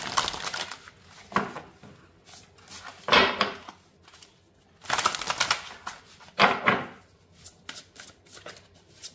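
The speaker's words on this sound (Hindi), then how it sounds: "फिर से शफल करती हूँ" Tarot cards being shuffled by hand in a quiet room, heard up close as repeated crisp riffling bursts separated by short pauses.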